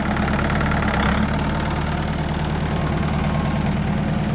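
A Foton 354 tractor engine runs at a steady idle, close and loud, with a constant low chugging rumble and no talk over it.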